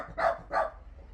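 A dog barks twice in quick succession, two short, fairly loud woofs close by, followed by a quiet room tone with no talking.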